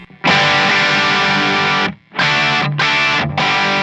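Loud distorted electric guitar strums ringing open chords, one long sustained chord then three shorter ones in quick succession, with no voices.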